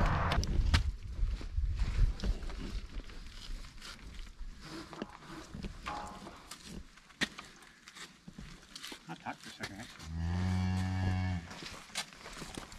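Cattle held in a draft horse rodeo barn, with one clear drawn-out moo near the end over a noisy, shuffling background of movement and distant barn sounds.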